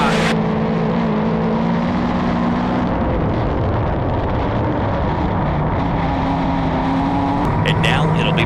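Race cars roar around a speedway oval during heat race number 4, with loud sustained engine drone, rising and falling tones as cars pass, and a commentator talking over the noise throughout.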